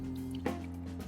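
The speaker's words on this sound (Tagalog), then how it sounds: "Lagay lang tayo dito ng kaunting tubig." A small amount of water is poured into a pan holding pork belly, giving a brief liquid splash and drip in the middle of a steady background hum.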